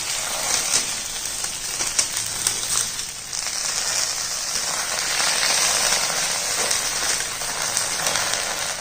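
Ragi roti cooking on a hot dosa tava, giving a steady, close hiss of sizzling with faint crackles throughout and no voices.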